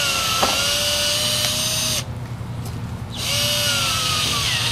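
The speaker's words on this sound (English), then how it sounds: "drill at about 90 degrees and no less than 45 degrees, about 3/4 of an inch deep, until fresh wood comes out" A power drill with an 11/64-inch bit bores about three-quarters of an inch into a tree trunk for inoculation, giving a close, steady whine that drops out briefly in the middle and then resumes.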